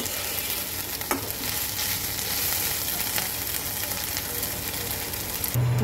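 Spice paste sizzles steadily in a pan for mustard pabda fish, a continuous crackling fry with a few sharp utensil taps and stirring scrapes, heard alone without talk.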